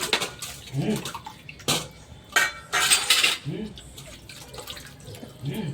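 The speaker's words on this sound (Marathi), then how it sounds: "सगळं देवाऱ्यावरची देवं खाली काढून घेतलेली आहेत आणि पितांबरीने व्यवस्थित स्वच्छ असं घासून घेत आहे" Metal devotional idols are scrubbed clean with Pitambari polish beside running water, with scraping and clinking of metal in irregular bursts over a steady tap flow.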